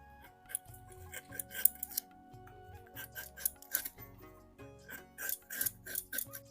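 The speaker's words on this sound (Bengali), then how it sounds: "আমগুলোর এখন খোসা ছাড়িয়ে নেব" Raw green mangoes being peeled with a blade give a series of close, crisp scraping and slicing strokes in uneven bursts, with faint clinks between them.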